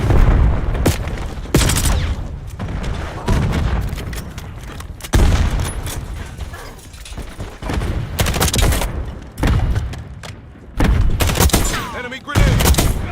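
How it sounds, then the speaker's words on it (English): Frag grenade blasts amid heavy video game gunfire: repeated loud booming explosions and rapid bursts of shots fill the scene from start to finish, close and dense. "Throw frag."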